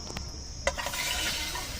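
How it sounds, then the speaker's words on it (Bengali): Bay leaf and whole cumin dropped into hot oil for tempering, a brief clatter followed by a steady, close, hissing sizzle that fills the rest of the moment. "এখন আমি ফোড়নে দিয়ে দেবো তেজপাতা, দিয়ে দিচ্ছি গোটা জিরা"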